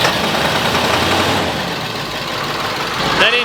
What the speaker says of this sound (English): can you start your engine? I need to identify what actually is going on